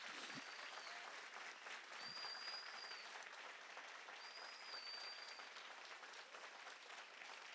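A church congregation gives a big round of applause, steady and continuous throughout, with a few whoops rising above the clapping.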